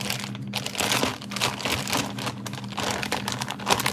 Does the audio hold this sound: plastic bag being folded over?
yes